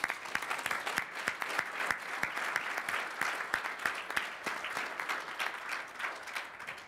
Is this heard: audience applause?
yes